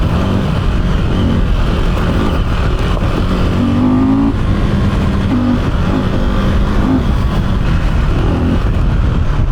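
A loud KTM 890 Adventure R motorcycle engine drones continuously with rising and falling revs, accompanied by heavy rumbling and wind noise throughout.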